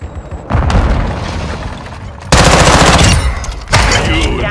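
Call of Duty Mobile Semtex grenade explosion mixed with rapid gunfire on El Asilo, loud continuous bursts of shots and booms, with a second blast surge near the end and faint voice radio chatter.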